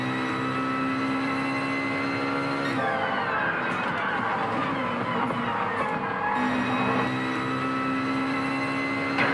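Racing cars in the Gran Turismo Sport video game, a steady, loud engine whine with sustained high tones and shifting pitch that continues without a break, under light commentary.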